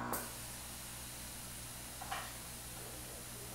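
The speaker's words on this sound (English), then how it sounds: "You can see the steam coming up in my face." Steady hiss of vapor from a steam cleaner on a fabric baby blanket, broad and constant, with a brief click near the start and a small burst partway through.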